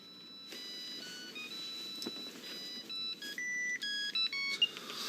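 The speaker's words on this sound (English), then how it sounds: "I've been messing about trying to change this ringtone" A mobile phone ringtone of short electronic melodic beeps, with more notes stacking up as it plays on, heard faintly in a quiet indoor room with no talking.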